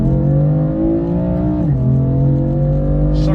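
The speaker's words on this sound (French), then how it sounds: "Dès que je passe le rapport, paf, la voiture elle part vers l'avant." BMW M4 accelerating hard, a loud engine drone climbing in pitch, dropping sharply at a gear shift, then pulling again, heard close from inside the car without voices.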